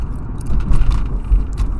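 Inside an old car on the road, a low engine rumble and road drone fill the cabin, with light rattling on top in a short, steady stretch.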